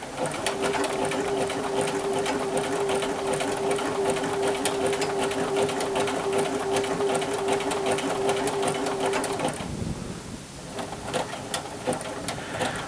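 A sewing machine runs steadily, stitching a duffle bag with a continuous loud mechanical whir that stops near the end, followed by quieter handling noise.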